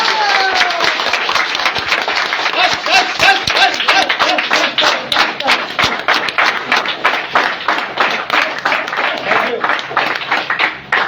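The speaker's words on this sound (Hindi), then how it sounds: "एक बार अपने सेहत के लिए एक बार जोरदार क्लैपिंग।" An audience claps loudly together at an event, a dense, continuous burst of hand claps that keeps going steadily and slightly thins toward the end.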